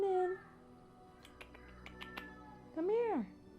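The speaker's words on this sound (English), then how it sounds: "you can hear my roommate's cat." A roommate's cat meows twice, a short call at the start and a rising-falling wail near the end, with light taps and clicks between, indoors near a streaming setup.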